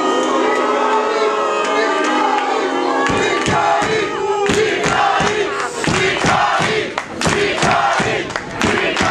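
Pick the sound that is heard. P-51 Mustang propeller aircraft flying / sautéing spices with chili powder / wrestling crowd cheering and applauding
wrestling crowd cheering and applauding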